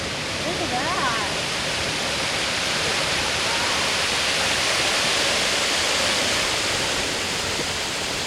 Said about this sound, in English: Because it's a red waterfall.